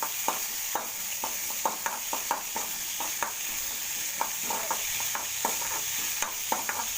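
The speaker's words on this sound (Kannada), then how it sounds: "ಸ್ವಲ್ಪ ಹೆಸರುಬೇಳೆನ ರೋಸ್ಟ್ ಮಾಡ್ಕೊಳ್ಳೋಣ" Split moong dal roasts in a little oil in a pan, a soft steady sizzle punctuated by frequent sharp scrapes and taps of a stirring spoon against the metal, close and clear with no talking.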